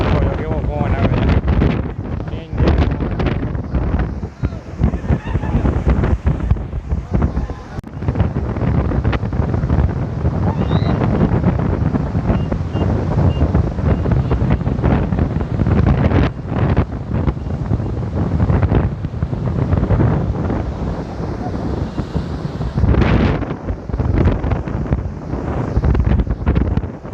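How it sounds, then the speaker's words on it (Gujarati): Strong sea wind buffets the microphone on Mandvi beach in Kutch, with a continuous loud roar and gusty rumble across the whole stretch and faint surf beneath, while a voice talks over it. "અને પવન તમે જોઈ જ શકો છો કેવો પવન આવે છે."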